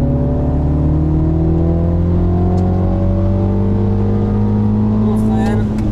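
A small BMW Mini accelerates on a closed driving course, the engine note climbing in pitch loud and close, with a voice speaking over the top.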